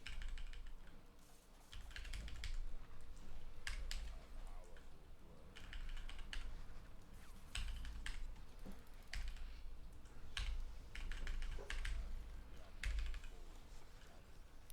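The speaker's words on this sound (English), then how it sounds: "that was me being asked why I don't edit out my keyboard sounds" Computer keyboard typing in bursts of quick, close key clicks, pausing briefly between runs, over a quiet room background.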